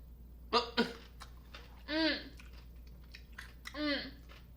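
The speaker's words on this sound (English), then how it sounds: "we're also gonna have a taste of the pickles" Crisp crunching bites of new pickles, three short wet crunches spaced about a second apart, close and fairly quiet with a faint background hum.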